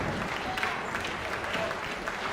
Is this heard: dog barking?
no